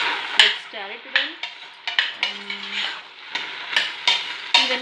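Carrot, beans and potato being stirred in a pan for vegetable biryani, with short bursts of a spoon scraping and clinking on metal over a light sizzle, close and uneven in rhythm.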